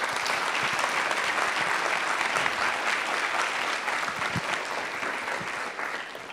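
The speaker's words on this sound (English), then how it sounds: "keep the applause going" Sustained audience applause at an event held at a university health science center, steady and fairly full throughout with a slight fade toward the end, no voices rising above it.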